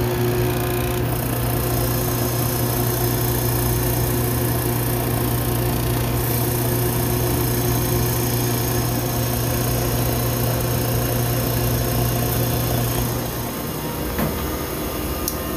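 A Manitowoc ice machine running in its freeze cycle while refrigerant is pumped in, giving a loud, steady mechanical hum and drone that holds throughout with a slight dip near the end.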